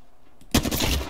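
Gunfire in Apex Legends, starting abruptly after a quiet moment as a loud, close burst of rapid automatic shots that fills the rest of the moment.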